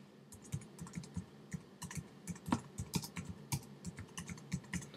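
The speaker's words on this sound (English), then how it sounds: "I might type something like" Quick, uneven keystrokes clatter on a computer keyboard, with short bursts and small pauses between them, close and clear with no talking.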